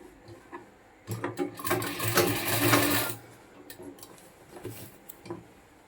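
A sewing machine stitches a shirt in a burst of about two seconds of steady whirring, preceded and followed by quieter clicks and handling sounds.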